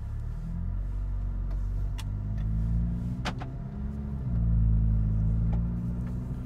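A 2018 VW Golf R MK7.5 with a Stage 1 ECU tune heard from inside the cabin while driving, a steady low engine rumble that swells and eases with a few small ticks and clicks over it.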